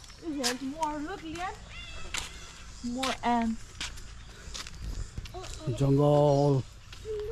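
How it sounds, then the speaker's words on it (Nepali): Several drawn-out cat meows, close and fairly loud, come in short bursts with a voice speaking between them, in PeaceHaven Botanic Park, Highfield. "म्याउ म्याउ बिरालो"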